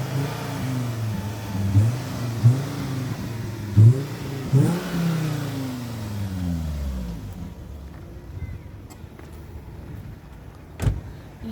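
A Volvo V50 engine revs up several times in short bursts, then winds down and settles to a quieter idle, close by.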